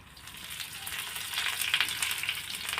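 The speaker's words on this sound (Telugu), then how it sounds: "ఇవన్నీ కొంచెం ఫ్రై అయ్యేటట్టు అన్నీ కలిసేటట్టు కొద్దిగా ఫ్రై చేసుకోవాలి" Dried red chili pieces, garlic cloves, chopped onion, curry leaves and urad dal fry in oil with a soft, continuous sizzle that swells slightly toward the end. No voices are heard.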